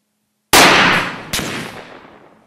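A hunting rifle fires once with a sharp, loud crack out of silence, followed by a rolling echo and a second sharp report that trails off slowly outdoors.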